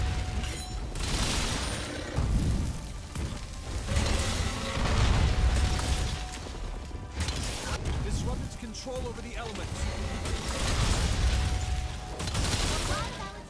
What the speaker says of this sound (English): splits into 3 lines of ground explosions that travel forward in different directions